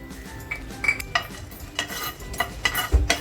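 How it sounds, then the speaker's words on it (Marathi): Whole coriander, cumin, black pepper, cloves and cinnamon dry-roast in a heated pan, heard as a close series of light clinks and scrapes of a spoon stirring against metal, with faint crackling underneath. "आता जे खडे मसाले घेतलेत ना ते अगोदर भाजून घेते"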